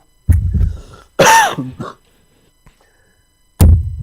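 A person coughs several times close by, harsh throaty bursts with a hoarse clearing sound between them, separated by short pauses.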